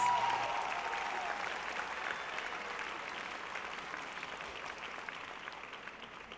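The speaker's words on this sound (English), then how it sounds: "How about another round of applause for our senior counselor, Ms. Clifford," Steady applause from a large audience at a high school graduation ceremony, a dense wash of clapping that holds evenly for several seconds and slowly tapers, heard from a distance with no clear speech.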